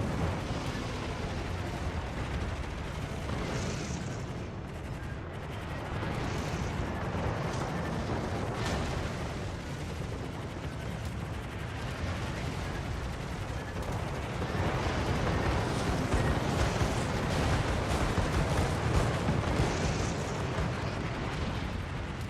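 Naval battle in the World of Warships video game: dense, continuous rumbling gunfire and explosions with repeated booming bursts, loud and sustained without speech.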